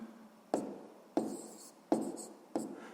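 Pen or chalk writing out a sixth-grade math solution, four short scratchy strokes at an even pace, close and quiet, with no talking.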